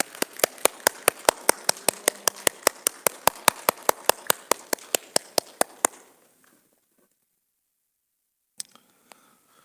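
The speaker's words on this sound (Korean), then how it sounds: "같이 박수하겠습니다" A church congregation at a Sunday service claps together for Father's Day, about two dozen crisp, evenly spaced beats in unison for six seconds, then near silence with a couple of faint knocks.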